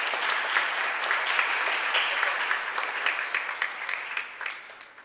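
A congregation at Mass in a parish church gives a strong round of applause, a dense steady wash of clapping that holds and then tapers, with a few separate claps trailing off at the end.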